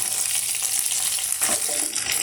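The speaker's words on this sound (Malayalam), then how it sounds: "ഇത്രയും കൂടി ഇതിനകത്തേക്ക് ഇട്ട് ഒന്ന് വഴറ്റിയെടുക്കാം" Drumstick pieces sizzle and crackle in a hot pan, with a few stirring scrapes, close and steady throughout.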